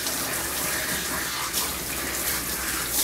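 A steady spray of water hisses close by as a dog is wetted for grooming, continuous with no pauses, and no voices are heard.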